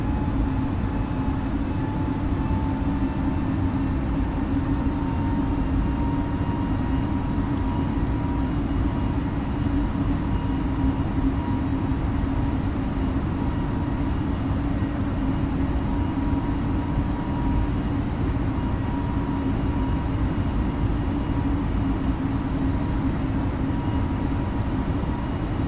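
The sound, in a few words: airliner departing in Microsoft Flight Simulator video game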